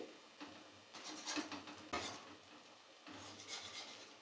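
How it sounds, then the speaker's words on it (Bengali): A metal spatula scrapes and chops through an egg omelette with pointed gourd in a frying pan, making quiet, irregular scraping strokes with brief pauses between them. "এইভাবে খন্তি দিয়ে অমলেটটাকে কেটে ছোট ছোট পিস করে নেব"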